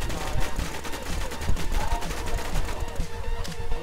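Gunfire in the WarZ video game, a dense burst of rapid shots and crackling bursts running through the whole moment, loud and close.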